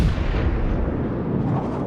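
Naval gun shell striking a ship in the video game World of Warships, a heavy rumbling boom that sustains and rolls for nearly two seconds, loud and close.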